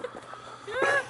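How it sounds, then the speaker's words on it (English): A pony gives a short cough, a brief rough burst near the end that stands out from quiet background noise with faint voices. "Just a little cough."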